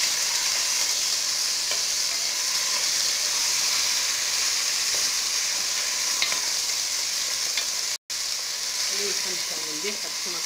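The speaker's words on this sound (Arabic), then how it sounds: "نقليوهم مليح هكا" Tomatoes frying with spices in a pan for spicy berkoukes, giving a steady, close sizzle and hiss that runs without a break, with faint stirring and a few soft low sounds near the end.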